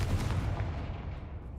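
A Confringo spell explodes in the video game Hogwarts Legacy, a single heavy boom that rumbles and fades away within about a second.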